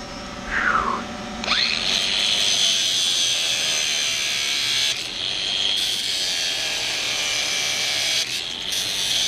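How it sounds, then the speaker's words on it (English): A cutoff tool grinds through wire fence ends at a garden gate corner, a loud steady high-pitched whine that starts after a brief clatter and runs continuously with small dips. "I really like the way this cutoff tool cuts it off flush"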